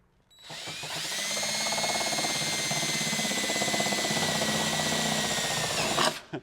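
A power drill bores holes through a Jeep's metal body or frame to mount Motobilt rocksliders, a loud, steady, high-pitched whine sustained for several seconds before winding down.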